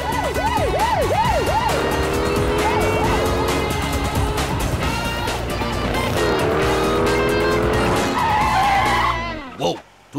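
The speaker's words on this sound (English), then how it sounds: "We got ourselves a drag race." Cartoon drag race with cars roaring past, tires squealing and skidding, and siren-like warbling tones, all loud and continuous beneath a busy music-and-effects mix before cutting off abruptly near the end.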